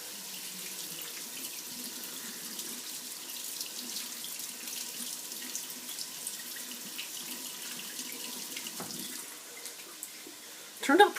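Tap water runs steadily from a faucet into a sink while Korean squash is rinsed, a continuous close splashing hiss with a brief louder splash at the end and no speech.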